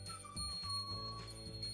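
A small homemade fishing bell rings with a clear, sustained metallic tone, struck a few times in quick succession and left to shimmer, fairly quiet and alone.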